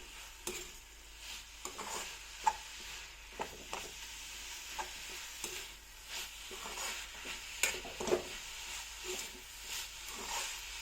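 Carrot halwa cooking with sugar in a pan over a low flame, a soft steady sizzle broken by scattered scrapes and clicks of stirring, close by and fairly quiet with no one talking.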